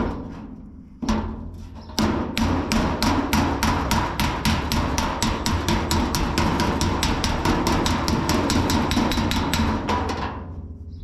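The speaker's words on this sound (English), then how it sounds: "I'm going to move my hammer to the inside, put my dolly out here, and pop this section out a little bit." A hammer strikes sheet metal against a dolly to pop out a section of a Willys pickup bed after media blasting, giving a rapid, regular run of sharp metallic blows that carries on for several seconds.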